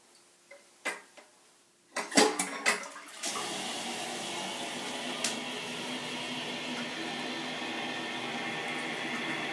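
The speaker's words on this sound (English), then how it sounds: "So let's flush it. See how well it works." A rebuilt San Rafael toilet is flushed: a few quiet clicks of the handle, then a sudden gush that settles into a steady rush of refilling water, close and alone.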